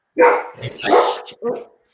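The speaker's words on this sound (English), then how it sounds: "my dog is giving great bark" A dog barks a few times close to the microphone, short yapping bursts with a brief whimper between them.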